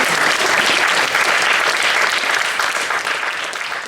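A podcast audience breaks into loud, sustained applause at the end of a closing speech, dense clapping close up that tapers off only slightly over several seconds.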